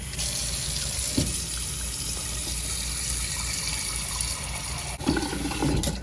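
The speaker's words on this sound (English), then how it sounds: "grab us a pot." Tap water pouring into a cooking pot at a home kitchen sink, a steady broadband rush with a couple of brief splashy shifts, no talking.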